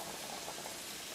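Pasta boils in a pot on a kitchen stove, a steady soft bubbling churn of rolling water, continuous and fairly quiet at close range.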